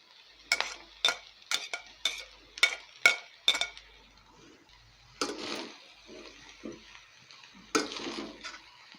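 Cabbage and eggs being stir-fried and tossed in a pan for egg fried rice: a run of sharp clinks and scrapes of the utensil against the pan, then a sizzling, rustling mixing stretch with more scraping near the end.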